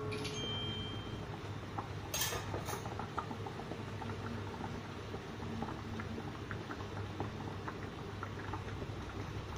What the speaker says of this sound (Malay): Dia kena mengelegak-ngelegak lah.